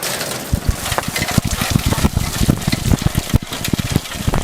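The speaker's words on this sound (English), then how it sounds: "Sprayed water over my precious camera" Water pump on a home plumbing setup, gushing and spraying water with a loud, turbulent rush broken by irregular splashy bursts, close up and continuous with no talking.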